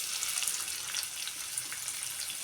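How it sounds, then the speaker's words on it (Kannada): Chopped onion, green chillies and curry leaves fry in hot oil with mustard and cumin seeds in a pan, a steady close hiss of sizzling with faint pops throughout and no talking. "ಈರುಳ್ಳಿ, ಹಸಿಮೆಣಸಿನ್ಕಾಯಿ, ಕರಿಬೇವು ಸೊಪ್ಪು ಸ್ವಲ್ಪ ಫ್ರೈ ಮಾಡ್ಕೊಳ್ಳೋಣ."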